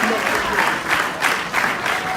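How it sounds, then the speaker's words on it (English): Audience at a Nation of Islam event in Los Angeles, California, applauding loudly and steadily, a dense wash of clapping that fills the space, with a voice faintly under it. "Give them a round of applause as they come."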